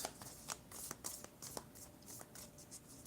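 Oracle cards shuffled by hand, a quiet, close series of soft riffling and slapping bursts in an uneven rhythm, with no talking.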